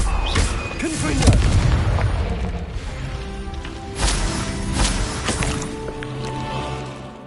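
Fire-blast spell explosions in the Hogwarts Legacy video game on PS5, heavy booming bursts over a dense layer of game effects and music that rumbles on for several seconds, with no speech.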